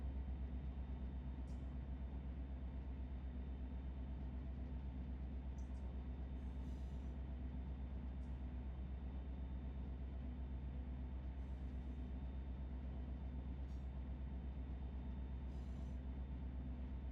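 A freight train rolls steadily in the Run8 train simulator, a constant low rumble and hum of wheels and engine with faint intermittent clicks overhead, sustained and even throughout without talk.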